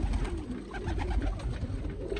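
Pigeons coo from their nests in a loft, a steady, close murmur of low, rolling calls that overlap continuously with no talking.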